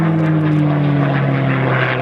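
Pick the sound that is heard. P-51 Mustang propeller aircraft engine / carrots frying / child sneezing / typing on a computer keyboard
P-51 Mustang propeller aircraft engine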